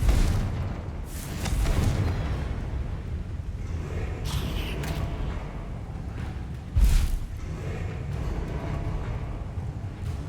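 Confringo fire spells cast in the Hogwarts Legacy video game produce repeated booming blasts over a dense rumbling game mix, with a sharp, loud impact near the middle and softer bursts around it.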